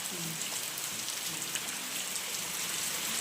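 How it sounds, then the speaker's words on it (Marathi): Steady, dense rainfall hisses close by, a continuous downpour drumming on surfaces with no pauses. "हा बघा पाऊस किती पडतोय"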